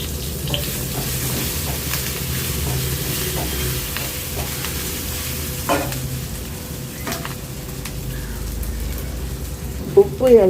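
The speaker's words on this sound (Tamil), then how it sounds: "இப்போது இதில் எண்ணெய் விட்டு வறுத்துட வேண்டியதுதான்" Ivy gourd fries in oil in a pan with a steady, soft sizzle, broken by occasional stirring scrapes and a couple of sharper clinks at the end.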